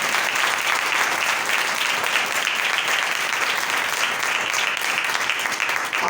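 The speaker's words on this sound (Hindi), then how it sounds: "जोरदार तालियों से खुदा की तारीफ करें" A congregation at a Thanksgiving church service breaks into loud, sustained applause, thick and even clapping from many hands filling the room without letting up.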